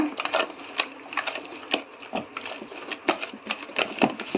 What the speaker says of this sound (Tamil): நல்லா மாவை அடித்து பிணையணும்